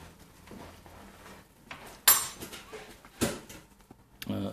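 A spoon scraping and clinking against a pot while tahini and tomato puree are stirred, with sparse, irregular metallic knocks, a few sharp clanks standing out above a quiet background.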